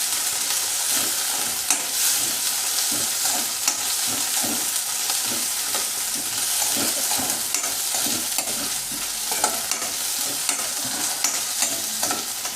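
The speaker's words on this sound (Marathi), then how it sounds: "हलकंसं ब्राऊन होईपर्यंत आपण हे भाजून घेऊया" Steady sizzling of paneer frying in a pan for restaurant-style chilli paneer, with regular scraping strokes of stirring scattered throughout, close and continuous with no talk.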